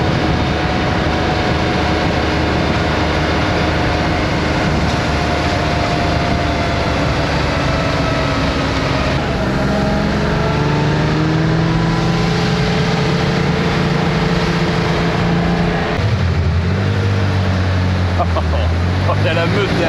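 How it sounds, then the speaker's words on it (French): A classic Porsche 911 2.2 Targa cruising on roads in Provence, its engine a loud, steady drone with rising and falling harmonic tones as it shifts and changes speed throughout. "Départ Porsche classique."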